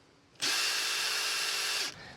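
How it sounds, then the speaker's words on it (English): A power drill bores into coconuts in one steady, high whirring burst lasting about a second and a half, loud and close, with no talk over it. "Crack them open, drill into them, and hopefully whatever's inside tastes half reasonable."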